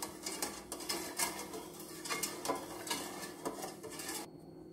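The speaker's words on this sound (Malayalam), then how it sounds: "ഇത് നന്നായിട്ട് ഇളക്കിക്കൊണ്ടിരിക്കണം" Milk pudding being stirred in a pot, with continuous scraping and clinking of a spoon against the metal in an irregular rhythm, up close and steady, with no voices.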